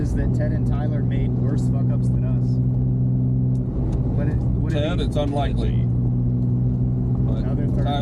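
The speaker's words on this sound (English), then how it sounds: "There is a lot of exhaust drone in this car" Heavy exhaust drone inside an MK2 Supra rally car cabin, a loud constant low hum with steady tones running under people talking throughout.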